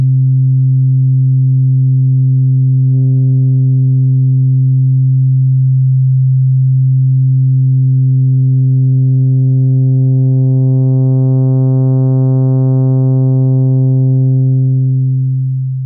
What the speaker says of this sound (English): We have a continuous drone. We connect a single LFO to the feedback on the SYN VCO module